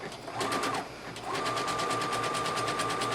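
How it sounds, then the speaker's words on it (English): Sewing machine running a zigzag stitch along a dress seam edge, a rapid close mechanical chatter with a brief pause, then a steady run. "we're going to finish the edge of this seam also with a zigzag stitch right along the edge"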